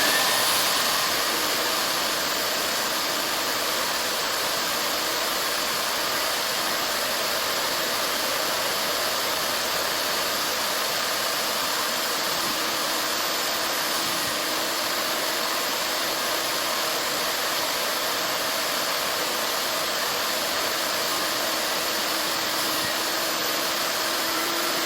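A carpet extraction machine running on cold water gives a continuous, loud, even whooshing roar for the whole stretch, with no talking over it.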